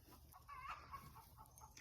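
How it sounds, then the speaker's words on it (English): A backyard chicken clucks and gives a short warbling call close by in a garden, faint against quiet outdoor background noise, with no talking. "listen to that chicken"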